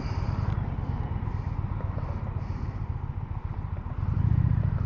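Indian Challenger motorcycle engine running steadily while riding, a loud continuous low rumble with wind noise, rising slightly toward the end, heard alone without talking.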